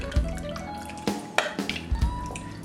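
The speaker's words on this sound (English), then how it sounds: "I want to give it a little stir and kind of get those ingredients moved around in there." A spoon stirring beef stew ingredients in a crockpot, with wet sloshing and a few soft clinks and splashes in short, irregular bursts, fairly close and clear.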